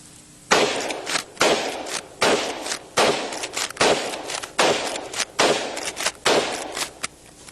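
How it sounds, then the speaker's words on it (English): Lever-action rifle fires about nine sharp, loud gunshots in a fairly steady rhythm outdoors. Each crack is followed by a short echoing tail. "I'll show you what it will do, although I'm not an expert with the lever action like old Chuck Connors is"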